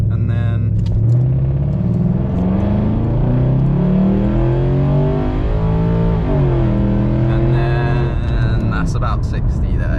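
A 1999 Jaguar XJ8 with a 3.2 litre V8 pulls away hard on a 60 mph road, its engine note climbing steadily and loudly for several seconds, then dipping and rising again after a gear change under a constant rumble.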